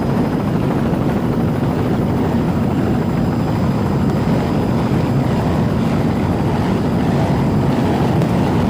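Racing powerboats at a 1993 offshore grand prix, the Change Order team's boat among them, give a loud, constant engine roar with wind buffeting, steady from start to finish.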